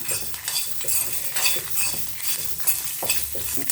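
Urad dal and coconut pieces dry roasting in a pan while a spoon stirs them, giving close scraping, rattling strokes in an uneven rhythm, with a faint sizzle underneath and no voices.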